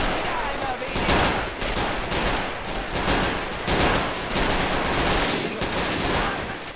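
Heavy WWII infantry gunfire in Men of War: Assault Squad 2 during the 1945 German defense of Foy, a dense, continuous crackle of rifle and machine-gun shots close by, with voices faintly underneath.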